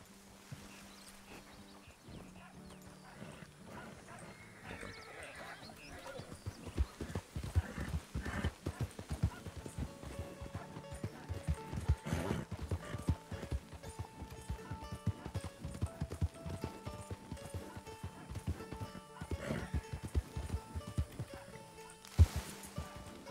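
In the RedM game, horse hooves clip-clop unevenly around a barrel racing arena, with an unhappy horse in a round pen nearby, sharp hoof strikes and occasional neighing over a quiet background.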